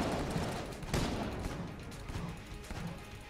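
Rapid gunfire from a newly picked-up weapon in the Enter the Gungeon video game during a first boss fight, a dense continuous barrage of loud shots throughout.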